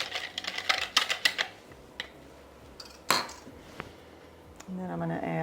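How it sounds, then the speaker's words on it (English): Whisk stirring sugar in a bowl for tomato soup: a quick run of light metallic clinks and taps, then scattered single knocks, with a voice briefly heard at the end. "Whisk that up until it's dissolved."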